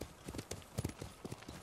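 Rapid rhythmic hoofbeats clatter in quick succession, a horse galloping in the video game Ghost of Tsushima, fairly faint and steady.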